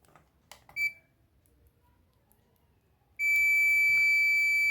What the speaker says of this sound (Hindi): तो आपको इस तरह से जो है डेड शॉट की बीप आ जाएगी।